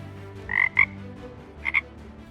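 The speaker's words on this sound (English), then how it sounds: "Look, I found a frog" A frog croaks in two pairs of short, sharp calls, one pair early and one near the end. The calls stand out clearly over a low, quiet background.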